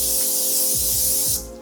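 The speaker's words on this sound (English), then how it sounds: "a little bit of pan spray." A steady, loud hiss of aerosol cooking spray onto a lined sheet pan for over a second, cutting off abruptly with a faint clatter of the pan.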